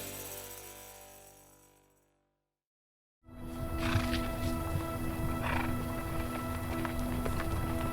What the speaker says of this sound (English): As the wranglers are bringing the horses in from the pasture to get ready for the ride